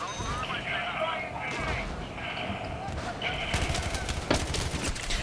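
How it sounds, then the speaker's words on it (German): Dense explosions and bursts of gunfire from the video game Battlefield 3 roar continuously, with a sharper blast near the end, while people talk over the loud battle noise. "überall explodiert"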